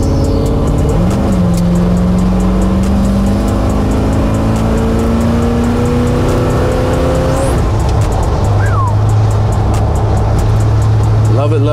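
A 1971 Chevrolet Super Cheyenne 4x4 truck accelerates with a loud engine note climbing in pitch, then shifts and settles into a lower drone, with voices talking over it.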